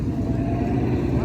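A 5-liter Mustang engine roars at a rev battle, with other cars nearby. The noise is a brief, loud, steady engine drone.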